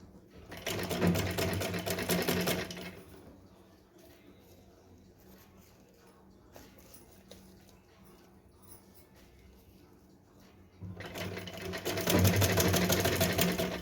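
A sewing machine stitches a small Laddu Gopal Janmashtami dress in two loud, continuous whirring bursts at the start and end, with a quieter stretch of handling between them and no talk.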